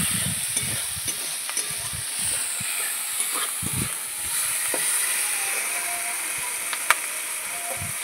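Spice paste with tomato, green chilli and salt sizzles steadily in hot oil for a fish curry, a continuous frying hiss broken by irregular scraping clacks of a spoon stirring in the pan.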